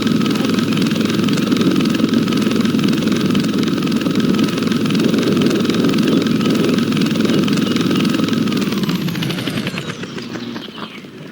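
A Black Hawk helicopter hovers in a video game, its loud, close engine and rotor drone holding steady and unbroken before easing off slightly in the last couple of seconds.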